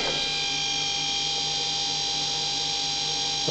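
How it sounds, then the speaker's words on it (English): A G0704 milling machine spindle runs steadily at 3000 RPM, giving a continuous high-pitched electric whine with a constant tone, close and unbroken. "Turned it on, running at 3000 RPM."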